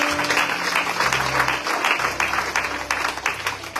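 A church congregation applauds and cheers in acclaim of the Lord, with dense, steady clapping from a full crowd lasting throughout, loud and close with a low hum underneath.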